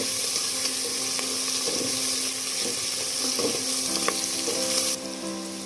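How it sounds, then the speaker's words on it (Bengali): Bay leaves, whole cinnamon sticks, cloves and cardamom pods frying together in oil in a pan, a steady close sizzle with faint stirring scrapes and small clinks. "সবগুলো একসাথে ভেজে নেব।"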